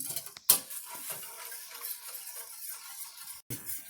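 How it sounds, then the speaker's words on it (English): A whisk scrapes and taps steadily around a pan as milk is stirred into a thickening sauce for creamed spinach, a close clinking rhythm with a couple of sharper metal knocks. "we'll continue to whisk it and stir it until it becomes smooth"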